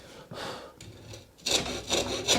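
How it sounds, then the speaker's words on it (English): A hand saw cuts through a piece of wood hung over the edge of a workbench, giving rough rasping strokes in a steady back-and-forth rhythm that grow louder and brighter toward the end, close up with no talk. "Now to saw this, I think I'm going to hang it over the edge so I don't end up sawing into my workmate"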